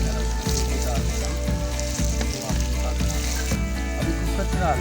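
Beef with ginger-garlic paste and spices sizzling in a pressure cooker on a stove, a loud continuous frying hiss with a few brief dips as it is stirred, close up.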